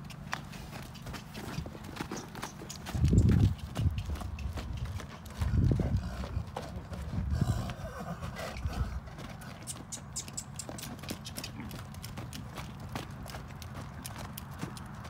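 A four-year-old Belgian draft stallion of nearly 2,000 pounds walks in a pasture, his hooves clip-clopping in a steady, moderately close rhythm, with a few heavier thuds and faint background noise.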